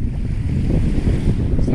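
Sea waves at Tali Beach in Batangas, a rough, close wash of surf mixed with heavy wind buffeting the microphone.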